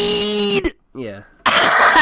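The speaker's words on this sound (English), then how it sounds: "That was like actual coughing, which is funny to me." A man coughs harshly after smoking weed, a rough hacking burst that is loud and close. He speaks briefly around it.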